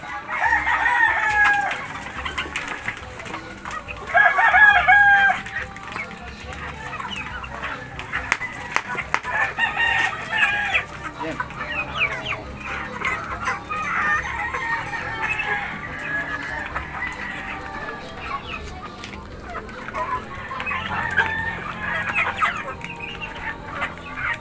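A flock of native and red chickens with chicks are given leftover food, with busy clucking, squawks and a rooster crowing close by, and a voice speaking intermittently.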